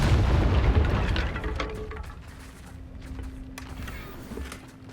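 A Confringo spell explosion in the game Hogwarts Legacy: a loud, close boom right at the start that rumbles and fades away over a few seconds.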